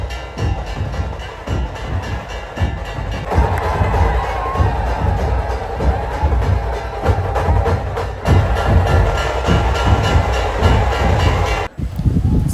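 Large outdoor crowd roaring and cheering at the Shivrajyabhishek coronation ceremony at Raigad fort, a dense, continuous wall of voices with rhythmic shouts and drum-like thumps throughout.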